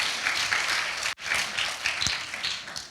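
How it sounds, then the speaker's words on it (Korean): An audience at a youth lecture event bursts into dense, sustained applause, many hands clapping at once, broken by a brief cut before continuing just as full. "박수 칠까요?"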